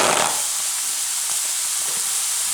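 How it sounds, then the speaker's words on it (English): A turkey set into a hot cast iron pan fresh from the oven gives a loud, steady sizzle and hiss, with faint clanks beneath. "Placing the turkey into the hot cast iron pan will give some extra cooking to the underside of the turkey"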